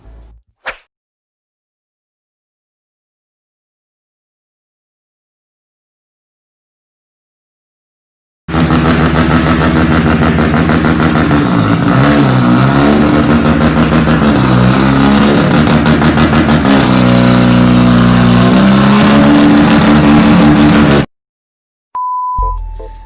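A flat-six engine, as found in a Porsche Boxster or 911, revs hard and loud for about twelve seconds after a long silence, with a rising and falling growl and dense exhaust rasp.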